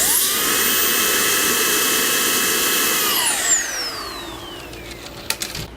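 A Milwaukee cordless leaf blower with a 5-degree nozzle runs at a loud, steady high whine, then winds down with a falling pitch and fades near the end. A few clicks follow.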